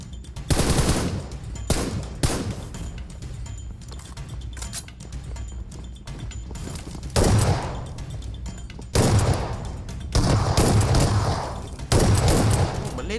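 Gunfire from the mobile battle-royale game PUBG Mobile comes in several loud bursts of rapid automatic shots, separated by short pauses, close and sharp throughout.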